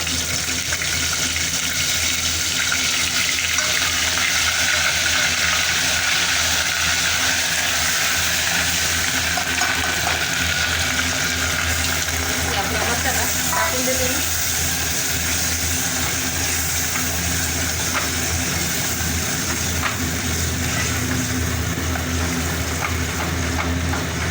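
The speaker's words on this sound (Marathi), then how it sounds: "आपलं गरम तेल झालेलं आहे तिच्यात आपण पहिलं तेजपत्ता टाकून देऊ" Bay leaves dropped into hot oil while cooking matar paneer give a steady, even sizzle and hiss that runs unbroken for over twenty seconds with little change in loudness.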